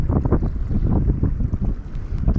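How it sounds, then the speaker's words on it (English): Strong wind roars steadily across the open ocean during offshore kayak fishing, buffeting the microphone with low rumbling gusts and mixing with the wash of waves, loud and continuous throughout. "That wind's picking up"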